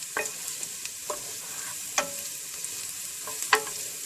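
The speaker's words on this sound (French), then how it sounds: "on va continuer à remuer jusqu'à ce qu'il devienne bien translucide" Chopped onion fries in a pan as the first step of a lasagna bolognese sauce. A light steady sizzle is punctuated by distinct spatula taps and scrapes at irregular intervals. There is no talk.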